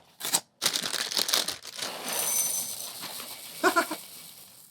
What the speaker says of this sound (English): I just love how they sound falling into the bowl